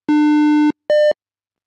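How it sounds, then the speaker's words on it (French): Two clean electronic beeps from the Emmabuntus accessibility installer spell out a letter in Morse code, a long tone followed by a short higher one, loud and alone in silence. "avec le code morse, que nous avions tapé sur la lettre F"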